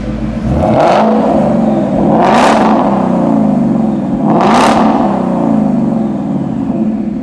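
A 2017 Shelby Super Snake Mustang's engine is revved three times close up. Each loud throttle blip rises and falls over a deep, steady rumble, with the biggest rev near the end.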